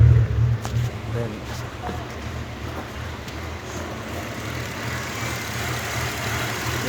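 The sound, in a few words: Mitsubishi Pajero 6G75 V6 engine idling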